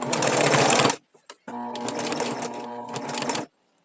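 Sewing machine stitching through fabric scraps for a patchwork rug, running in two steady bursts with a short pause and a brief back-stitch between them, close and loud.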